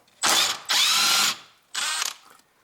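Three bursts of rapid ratchet clicking from a hand ratchet loosening a 10 millimeter bolt during a car repair for fault code C0205, close and loud with short pauses between strokes.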